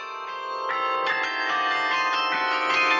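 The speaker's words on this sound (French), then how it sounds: "Nathan et Célian, 13 ans tous les deux, apprennent le carillon depuis 2 ans." Carillon bells played by young learners ring out in a quick run of struck notes, each bright strike overlapping the lingering, shimmering tones of the previous ones, fairly loud and continuous.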